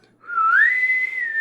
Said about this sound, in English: A bosun's whistle.